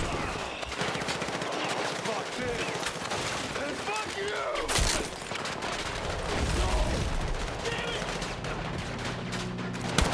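Rapid bursts of Battlefield 6 gunfire crackle repeatedly, with sharp shots and louder volleys over a busy mix of in-game effects and a voice.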